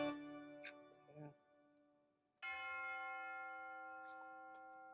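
Bell tower bells ringing in a video game build of Notre Dame, struck bells with long ringing tones that fade slowly, one faint strike followed by a louder toll, with brief clicks in between.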